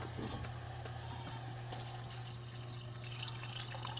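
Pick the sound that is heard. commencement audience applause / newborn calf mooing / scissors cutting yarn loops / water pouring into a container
water pouring into a container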